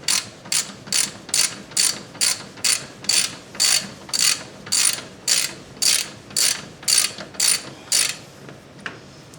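Ratchet wrench clicking in a steady run of about sixteen sharp, evenly spaced bursts while loosening a bolt behind the fender on a third-generation Nissan Murano rear bumper, close and loud with no talk.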